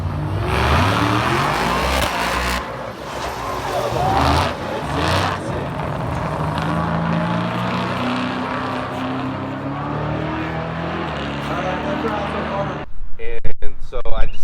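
A drag racing car on drag radials launches off the line with the trans brake held around 2,000 RPM at a muscle car show. Its engine roars steadily and loudly under talk, then surges harder at the end.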